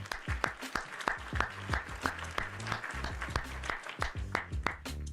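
Loud, rhythmic group clapping during a live coding stream, with sharp broadband claps close to the mic over low tonal hum, sustained throughout without speech.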